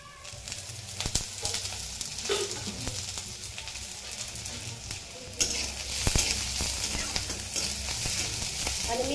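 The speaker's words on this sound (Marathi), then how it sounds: "कांदा आता भाजत आलाय चांगला आपला, थोडंसं तेल टाकते, म्हणजे काय होईल, कांदा चांगला भाजला जाईल।" Onions frying in oil for a paneer curry, a close continuous sizzle with a few stirring scrapes, swelling louder partway through as more oil is added.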